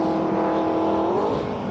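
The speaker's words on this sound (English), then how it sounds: "A car 57 is thundering along down there as well" A race car in an MG Car Club race at Brands Hatch thunders past with a loud, sustained engine note that rises slightly in pitch toward the end, filling the whole clip with no talk over it.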